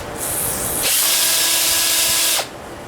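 WD-40 is sprayed from a can onto the lifter bores of a 1973 305 engine block, making a loud hissing spray that starts abruptly, holds for about a second and a half, then cuts off.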